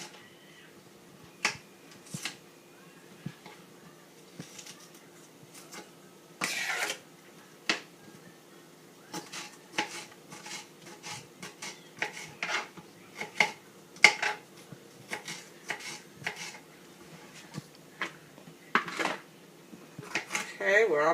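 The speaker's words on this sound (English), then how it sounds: "And just slice down for each one of your peppers." A knife slicing red bell peppers on a cutting board, a series of sharp, irregular close cuts and taps against the board over a quiet background, with a person talking at times.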